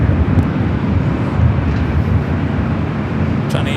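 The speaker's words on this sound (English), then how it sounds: "China Eastern 777 at 300 ER heading to Shanghai, now lighting up." A China Eastern Boeing 777-300ER spools up for takeoff at LAX, a steady, loud, broad engine roar heard at a distance outdoors, with no break.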